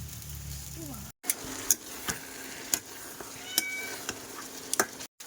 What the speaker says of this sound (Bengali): বিড়াল এত পরিমাণে ডাকছে